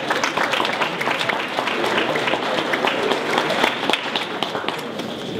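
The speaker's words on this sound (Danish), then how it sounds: "vi må godt klappe af hende" Dense audience applause at a Danish library foundation's author prize ceremony, many hands clapping in a continuous, lively patter with sharp individual claps standing out, sustained for several seconds.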